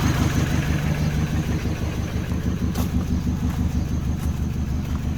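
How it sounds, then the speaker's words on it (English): A Mini Cooper engine runs with a misfire on one cylinder, giving a loud, close, continuous idle rumble with a slightly uneven pulse and no voices over it. "Like it's misfiring."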